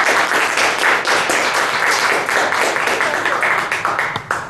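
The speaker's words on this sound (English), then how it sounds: "please welcome her with a warm round of applause" Strong, sustained applause from a lecture audience welcoming a guest speaker, many hands clapping evenly and closely before tapering off at the very end.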